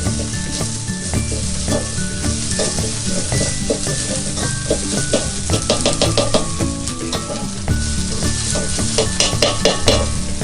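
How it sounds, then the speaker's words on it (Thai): Red curry paste stir-fried in a little oil in a pan over low heat, with a constant close sizzle and repeated scraping and stirring strokes throughout. "ครับตั้งกระทะให้ร้อนใส่น้ำมันไปหน่อยนึงนะครับ ก็ใส่พริกแกงไปได้เลย เราผัดพริกแกงให้หอมก่อนนะครับ"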